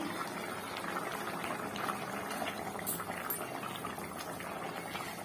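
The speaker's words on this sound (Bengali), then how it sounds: "ঝোলটা বেশ দারুণ ফুটে এসেছে।" Fish curry gravy bubbles away in a pot, a continuous dense burbling boil with popping bubbles, moderately close and steady throughout.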